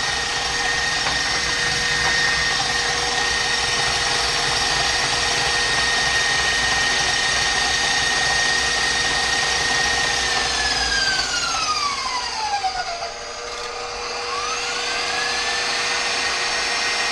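A stand mixer with a beater attachment works chocolate cupcake batter, giving a steady, loud motor whir that holds for the full length. Near the end its pitch slides downward briefly and then settles again. No one speaks.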